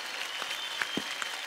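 Audience applause on an Indian Idol stage as a tribute to Kishore Kumar, a steady wash of many hands clapping at moderate loudness, with a few sharper individual claps standing out.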